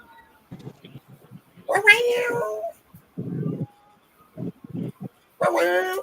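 A woman imitates a cat with her voice, giving a few drawn-out meows between short bursts of talk and a dog's soft sounds, indoors at home.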